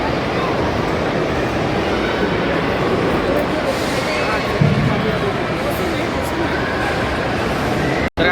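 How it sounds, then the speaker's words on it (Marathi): A small train rolls along an overhead track inside a busy shopping mall, giving a continuous low rumble under loud crowd noise and nearby talking. "तर काही ती बघा ट्रेन चालली आहे वरती."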